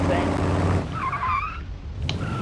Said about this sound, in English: The wheels spin is insane.